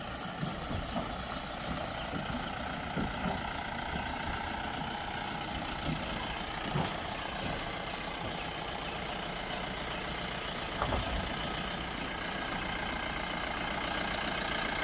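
A truck-like vehicle engine drones steadily as it moves along a road, with a continuous low rumble and rattling broadband noise, loud and close throughout with occasional knocks.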